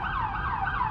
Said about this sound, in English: we have a police car right now right behind me, trying to push through